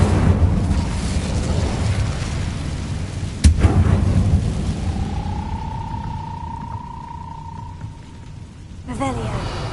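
An Incendio fire spell in Hogwarts Legacy bursts with a sharp crack and rumbling whoosh over a loud, noisy game mix, then settles as a sustained tone rises, ending with a brief flurry.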